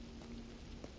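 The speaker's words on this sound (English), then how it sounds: "Hearing the rain hitting the train and stuff." Soft, steady rain patters on a train in a video game, faint and continuous, with a thin low hum underneath.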